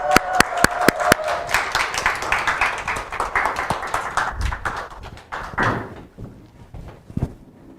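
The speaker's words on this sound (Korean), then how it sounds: "여러분 큰 박수 부탁드리겠습니다." An audience welcomes a Gunsan National University economics professor to a lecture with applause, starting with a few sharp individual claps and swelling into a dense, moderately loud patter before fading away.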